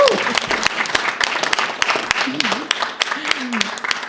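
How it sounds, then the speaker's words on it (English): Applause at an apprenticeship bill press conference, with clapping under tonal voices and a few sharp claps standing out over roughly four seconds. "you all can give yourselves a round of applause"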